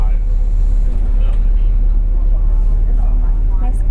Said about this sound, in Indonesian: Ini nih tuh aku sudah ada di dalam bis.